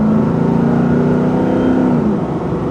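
A 2017 Nissan Titan XD Pro-4X diesel pickup accelerates from inside the cab, its engine a steady close drone with a rising tone that levels off, no voices over it.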